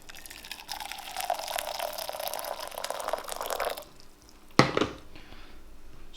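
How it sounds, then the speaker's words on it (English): Just-boiled water poured from a kettle onto an ultralight folding camp table and into a thin cup, a steady splashing pour for several seconds that stops, followed by a brief sharp clatter. "let's have a look at how it deals with some boiling water"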